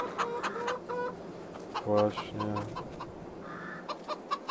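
Farmyard hens cluck in short, repeated bursts, with a louder cluster of calls near the middle, while a person speaks briefly over the flock.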